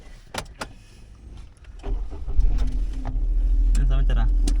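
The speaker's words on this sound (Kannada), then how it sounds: "ಫಸ್ಟ್ ಟೈಮು ತಿಲಕ ಡ್ರೈವಿಂಗ್ ಹೋಗ್ತಾ ಇದೀವಿ ನಾವು" A car is heard from inside the cabin as it pulls away, the engine rumble swelling into a steady low drone, with clicks and movement at the start and people talking.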